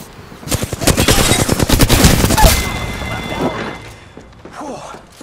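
Rapid automatic gunfire from Apex Legends, a dense loud burst of shots lasting a couple of seconds before breaking off, followed by quieter clatter, with a voice speaking over it.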